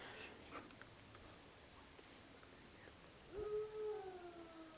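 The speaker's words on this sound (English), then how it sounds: "I hear like a howling." A single drawn-out howl rises late in the stretch, faint and distant, outdoors at night on Halloween. Low background hiss surrounds it, with no talk over it.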